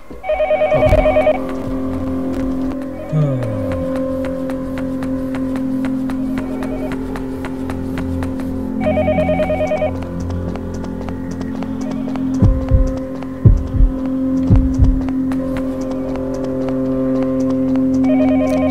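A phone booth telephone rings in the video game Yomawari: Night Alone, short trilling bursts repeating at long intervals over a low ambient drone, with scattered footsteps and thuds and no speech.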